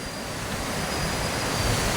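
Dense, constant roar of typhoon wind-driven rain, a broad hissing wash that holds steady and loud without pause or voices.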